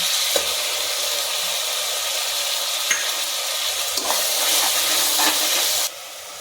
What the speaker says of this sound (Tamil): வெங்காய பேஸ்ட் போடலாம் ஒரு கப்பு இருக்கும் அப்படியே போடலாம்